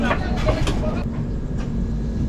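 Low steady rumble of the Kanchan Kanya Express rolling slowly out of Sealdah station, with faint clanks and rattles over a constant mechanical drone.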